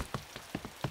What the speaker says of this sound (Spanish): ¡Llueve mucho para jugar ahora!